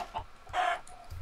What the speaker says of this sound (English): Have you noticed that all chickens in Minecraft are roosters?